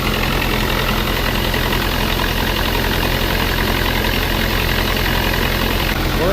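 A truck engine idles at a grain bin on a farm during an evening bean harvest, a steady, even rumble that runs unbroken and fairly close throughout with no one speaking.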